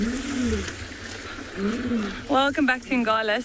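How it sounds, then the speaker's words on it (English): Lions roar in the South African bush at Ngala during a morning safari, low rumbling calls in the background while someone speaks over them. "So we have found the lions. You can hear them roaring in the background"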